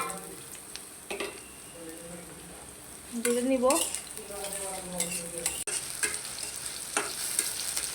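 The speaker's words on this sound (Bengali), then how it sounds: "সেখানে তেল দিয়ে দিলাম কড়াইতে। আমার তেলটা গরম হয়ে গেছে। এখন পেঁয়াজ মরিচ আর রসুনটা দিয়ে দিব।" Chopped onion, green chili and garlic frying in hot oil in a wok, with a steady sizzle, a louder hiss burst partway through, and clinks of a stirring spatula, while someone speaks briefly.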